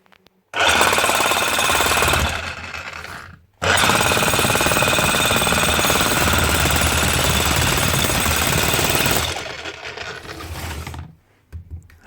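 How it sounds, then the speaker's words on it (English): Hikoki Hitachi D65SD3 demolition hammer with a fault that leaves it losing power on the strike, running loud and close in two sustained bursts of rapid hammering with a short pause between them. "Hikoki demolition hammer."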